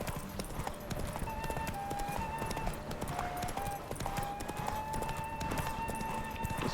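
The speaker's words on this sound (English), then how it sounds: "Let's start our romantic night off right by defeating her in a horse race." Rapid, steady hoofbeats of a galloping horse in a horse race in the video game The Witcher 3: Wild Hunt, over a backdrop of game music, continuous throughout, with no talking.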